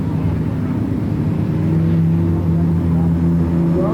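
Pure Stock race cars rumble together as a field at Flamboro Speedway ahead of the Gold Rush 30, a steady, loud, dense engine drone with layered low tones continuing throughout.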